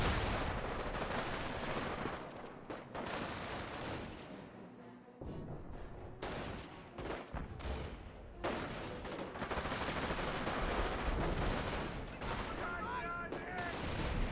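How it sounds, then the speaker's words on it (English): Thompson submachine guns from a squad of Rangers fire in the World War II strategy game Company of Heroes, a dense, continuous rattle of gunfire with heavier blasts mixed in, loud nearly throughout apart from a brief dip in the middle. "so that's all 4 Thompsons firing"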